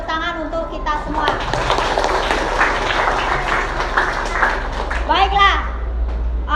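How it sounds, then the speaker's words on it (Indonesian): A classroom group applauds during a teacher training session at Universitas Negeri Malang, steady clapping mixed with children's and adults' voices and chatter throughout. "tepuk tangan untuk kita semua"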